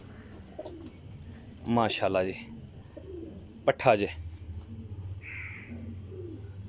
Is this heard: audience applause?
no